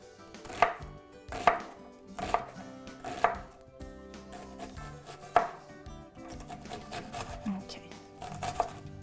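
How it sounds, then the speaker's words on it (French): Kitchen knife finely chopping onion and celery on a board: a steady series of sharp, close cutting taps, loud and regular, with occasional soft kitchen clatter and music faintly underneath. "Je coupe finement, voilà, comme ça. Donc ici, j'ai l'oignon, j'ai le céleri."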